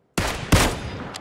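Two sharp, loud gunshots from a 7.62mm assault rifle in the battle royale game PUBG ring out in quick succession, each followed by a short decaying tail, with no talking.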